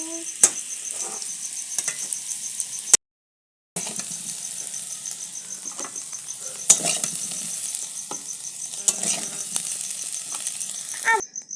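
Fried potatoes for aloo dum sizzle in a kadai as a spatula stirs and lifts them out, with scattered metallic scrapes and clinks over steady frying hiss, broken by a short silent gap.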